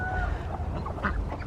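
Ducks quacking and chattering nearby in a muddy yard, several short nasal calls overlapping over a low rumbling background.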